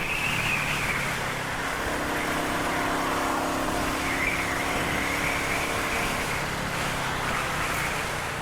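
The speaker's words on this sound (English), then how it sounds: "So this is how the traffic will be in the morning." Morning road traffic on the way to an office: a dense, steady roar of cars and engines rolling past nearby, with a broad wash of tyre and motor noise that swells slightly and never breaks.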